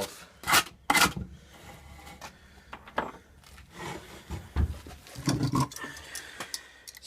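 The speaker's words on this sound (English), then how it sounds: "he's doing is marking out where my deck is, so he knows where to trim the grip tape off" A pen or marker scraping along the edge of a scooter deck through grip tape, giving several scratchy rubbing strokes with brief knocks and pauses between them, close and fairly quiet, with no voices.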